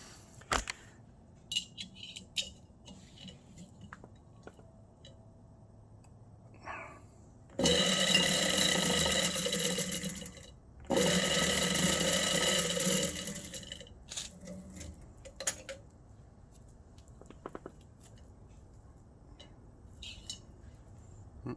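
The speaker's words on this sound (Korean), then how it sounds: "이게 아까 말했던 파스칼 유인줄 감는 기계고요" A machine winds Pascal-brand plant training twine into coils, giving two loud sustained whirring bursts of roughly three seconds each, separated by a brief pause, with quieter handling clicks and rustles before and after.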